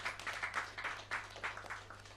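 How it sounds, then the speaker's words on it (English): Applause from the audience at a company's 40th annual general meeting, a thin scattered clapping that rises and dips in uneven bursts for about two seconds, fairly faint and heard on its own. "Please, let's give him a big round of applause."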